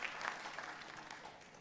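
A television game show studio audience applauds, a faint, even stretch of crowd clapping heard from a distance.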